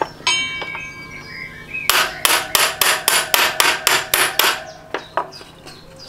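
A hammer beats against a second hammer in a workshop. A faint ringing tone is followed by a rapid, even run of about a dozen loud, close metallic strikes, then a few slower, scattered knocks.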